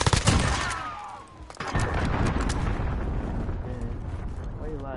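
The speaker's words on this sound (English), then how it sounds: "Allied cruise missile." Cruise missile strike in a video game, a burst of heavy blasts and crackling gunfire-like bangs up front, then a sustained rumbling roar of explosions rolling on, loud and dense.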